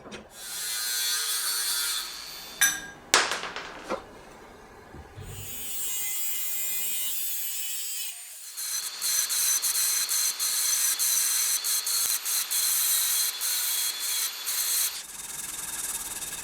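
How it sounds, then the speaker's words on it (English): V-brake bosses being cut off a steel bike fork: a harsh, high abrasive grinding whine in several sustained passes, broken by brief pauses and clanks, with no talking. "I'm cutting off the V-brake bosses here"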